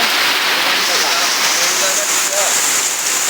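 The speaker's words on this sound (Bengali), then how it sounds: "তারপরেও আপনাদেরকে দেখাই কি পরিমাণ বৃষ্টি হচ্ছে" Heavy monsoon rain pours down around roadside shops, a dense, loud, unbroken roar of water that fills the whole stretch with no pauses.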